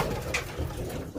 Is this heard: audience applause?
no